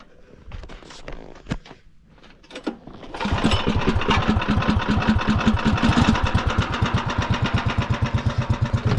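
A swapped-in 3 horsepower golf cart engine cranks with a few coughs, then catches and runs with a loud, close, steady chugging idle that pulses evenly.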